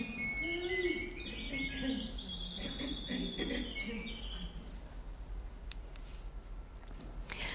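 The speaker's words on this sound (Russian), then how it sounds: "Эта птичка, помимо того, что может щебетать, она также может и перепрыгивать с ветки на ветку." A mechanical automaton bird chirps in short, bright warbling phrases early on, fading into soft background hiss with faint clicks toward the end.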